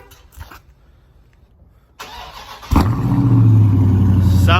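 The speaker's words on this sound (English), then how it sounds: "So I'm about to do a cold start since it's been a long time since you guys heard this car" A 2019 Scat Pack V8 fires up from cold: quiet stretch with faint rustling, a crank, then a loud sudden catch settling into a deep, steady, close-up idle rumble.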